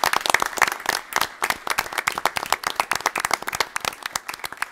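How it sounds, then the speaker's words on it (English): Round of applause at a village board of trustees meeting, loud close clapping with distinct individual claps in an uneven rhythm from a modest group, fading slightly toward the end. "can we just give them a round of applause?"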